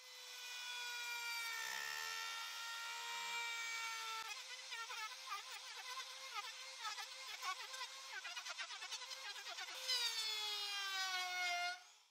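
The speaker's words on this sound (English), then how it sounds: "Using the router with a 30mm roundover bit, I'll round all the edges on both sides of both pieces." A handheld router fitted with a 30mm roundover bit cuts along wooden edges, a steady high-pitched whine with shifting tone as the bit bites and eases off, running continuously for about twelve seconds.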